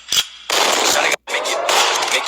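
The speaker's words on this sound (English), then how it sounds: "that pistol pop" Pistol gunshot sound effect, loud sharp pops: one brief shot followed by two longer, heavy bursts separated by a short silent gap, close and forceful.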